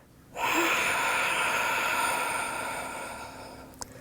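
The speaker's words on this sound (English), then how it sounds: "Exhale it all out." During a detox yoga breathing exercise, a single long, forceful exhale rushes out close to the microphone, holding steady and then slowly fading over a few seconds.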